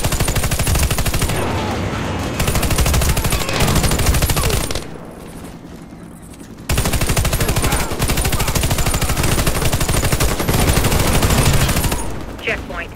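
Sustained video-game gunfire in a battle against Blackwood troops, rapid automatic bursts and fusillades filling the scene, broken by a brief lull midway before the shooting resumes just as loud.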